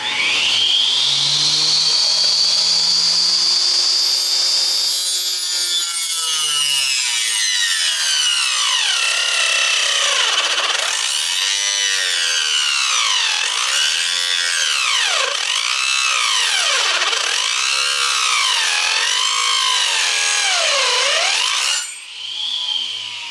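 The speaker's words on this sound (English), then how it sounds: "So I bought this little mini it's called the Mighty Mini Table Saw from Harbor Freight" A small Mighty Mini table saw from Harbor Freight cuts through a wooden sign, its loud, steady whining buzz shifting in pitch with repeated swooping dips as the blade meets the wood, running continuously alone before cutting off near the end.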